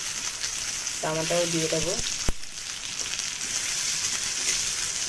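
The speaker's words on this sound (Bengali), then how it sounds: "কড়াইতে একটু ভেজে নেব। আদা রসুন সবই দিয়ে দেবো" Ginger and garlic sizzle in oil in a kadai, a steady close frying hiss throughout, with someone briefly speaking over it and a single sharp knock of a utensil.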